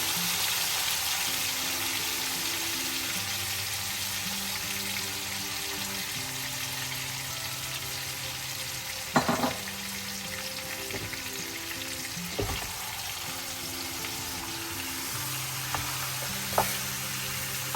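Food sizzles steadily in olive oil in a pan after being mixed with spices, a continuous close frying hiss broken by a few sharp clinks of stirring.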